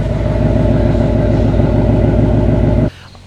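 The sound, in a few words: 2018 Ford Mustang GT exhaust with Texas Speed long tube headers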